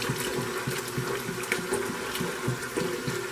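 Hot water runs from a tap into a canning pot, a steady rushing fill with a faint rhythmic pulsing underneath, close and moderately loud with no talking.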